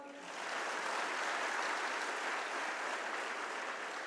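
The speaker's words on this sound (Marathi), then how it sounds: "टाळ्या जोरदार वाजवा." An audience at a live Guru Purnima festival program claps in sustained, dense applause that swells quickly and holds steady for several seconds.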